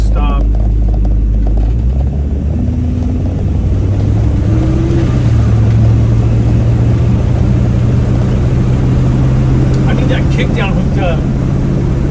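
A 1965 Chevy Nova wagon with a Holley carburetor and an Edelbrock intake manifold pulls away under throttle, its engine droning loud and close and rising in pitch as it accelerates. Road and cabin rumble run throughout.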